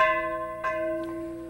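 A church-style bell once rung at the end of World War II gives one sustained, ringing tone with a long, shimmering decay, heard alone and fairly close.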